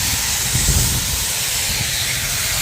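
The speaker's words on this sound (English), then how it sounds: "Another big steamer here." A big dual-stack steam traction engine at an antique tractor show gives off a steady, loud broadband hiss, with low rumbling underneath and no talk.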